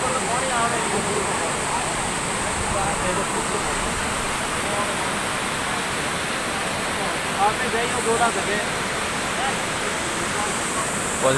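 River water on the Posaliya river rushes over the Panch Deval anicut weir in a constant, full roar of flowing water heard close by, with faint voices mixed beneath it.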